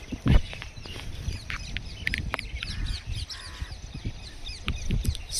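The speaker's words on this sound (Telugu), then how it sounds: "సౌండ్ చూసారా బర్డ్స్?" Crows caw repeatedly outdoors in the Rachakonda hills, with sharp calls scattered at mid distance among other bird sounds over a soft ambient background.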